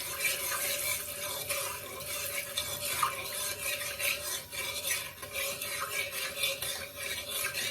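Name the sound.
stirring shrimp curry in a pot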